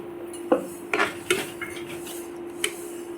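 Masala for mutter paneer is sautéed in a pan, with a few sharp clinks and scrapes of a spoon against the metal over a low background hum.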